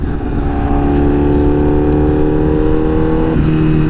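A liter-class sportbike pulls hard at quarter throttle, its engine a loud, close, rising roar that climbs steadily in pitch before a quick drop as the rider shifts.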